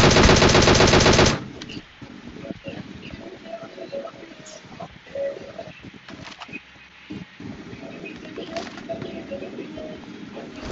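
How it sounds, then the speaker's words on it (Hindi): Gunfire in a battle-royale style shooter game, a loud rapid machine-gun burst at the start followed by scattered single and short-burst shots, nearer and farther, over game ambience. "गोली चल रही है, कहाँ से चल रही है?"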